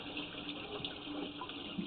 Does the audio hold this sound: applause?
no